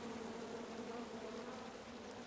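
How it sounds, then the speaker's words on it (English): Angry bees buzz from a tree in the video game King's Quest: a steady, dense, droning hum, continuous and fairly faint, with no talk over it. "And then you chop down the tree full of angry bees?"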